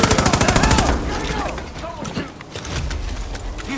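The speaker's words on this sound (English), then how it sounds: "I hear gunfire." A rapid burst of automatic gunfire in the video game Far Cry New Dawn opens, then gives way to scattered shots and shuffling noises with voices and game sounds in the mix.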